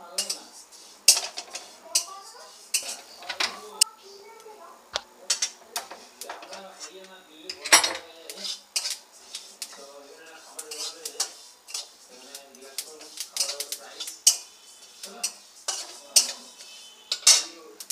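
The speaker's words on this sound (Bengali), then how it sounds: "প্রথমে আমি তিলটা ভেজে নেব।" Sesame seeds dry-roasting in a pan on a gas stove, stirred with a utensil that gives close, irregular metallic scrapes and clinks against the pan.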